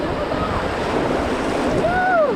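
River rapids on the Lower Pigeon River in the Smokies rush around a rafting boat on a Class I and II float, a steady, loud, close wash of churning water with wind noise and a faint rising whistle-like tone near the end.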